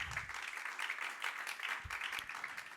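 A church congregation claps hands together in a steady, dense patter that fills the room, continuous and moderately loud, with no talk over it.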